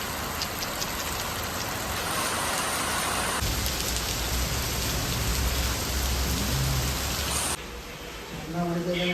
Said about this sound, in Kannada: ಅಷ್ಟು ಮಳೆ ಬರ್ತಾ ಇದೆ